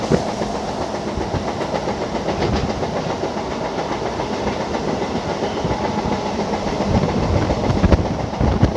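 The Begampura Superfast, running Varanasi to Jammu Tawi, passes at a crossing with a loud, continuous rumble and rattle of wheels on rails. The noise swells slightly toward the end.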